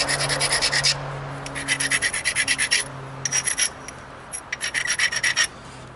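The edge of an obsidian spear point preform is ground in a flint-knapping session. Repeated rapid rasping strokes come in close, rhythmic bursts with brief pauses between them.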